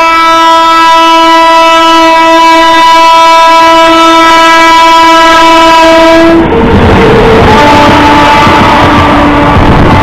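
A loud, sustained horn from the Bandra–Barauni Avadh Express blares for about six seconds, then gives way to the broadband rumble and rattle of the running train.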